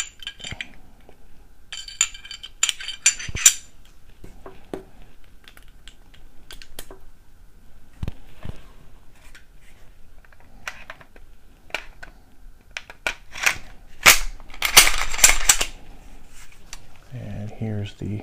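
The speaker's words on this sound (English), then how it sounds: "let me go ahead and put the pistol back together" A Glock 23 Gen 4 pistol is put back together, giving scattered light clicks and metallic clacks of parts sliding and seating, close-up, with a slightly louder burst of clatter near the end.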